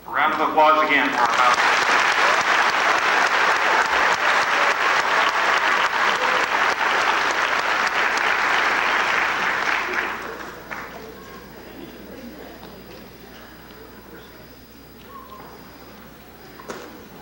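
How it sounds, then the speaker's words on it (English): Loud, sustained applause from a graduation crowd for the class of 1998 valedictorians, filling the hall for about ten seconds before fading to scattered quiet. "A round of applause again for our"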